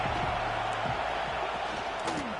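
Stadium crowd roaring continuously in a college football video game, Tennessee versus Alabama, a steady dense wash of noise with faint scattered cheers and a brief whistle-like swell near the end.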